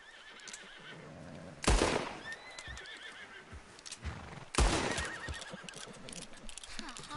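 A horse in the video game Red Dead Redemption 2 whinnies loudly twice, a few seconds apart, over steady hoof clip-clops and background ambience.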